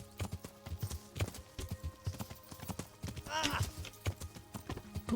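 Horse hooves clip-clopping in the medieval video game Kingdom Come Deliverance, a steady rhythmic clatter of close, fairly loud hoofbeats with a brief whinny-like sound in the middle.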